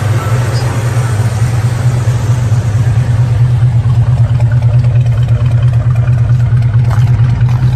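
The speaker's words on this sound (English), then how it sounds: "And then there you can hear the dual exhaust" Steady low exhaust burble from an idling 350 muscle car with dual exhaust, numbers matching and rated around 300 horsepower, holding an even rumble close by with faint background murmur.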